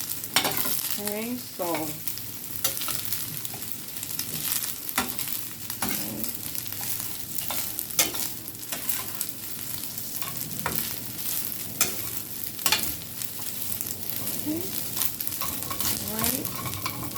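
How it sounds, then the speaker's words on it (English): Ham fried rice sizzles steadily in a pan, broken by frequent scraping stirs and spatula taps; a voice speaks briefly. "I'm letting it sit a little because I want it to get a little fried"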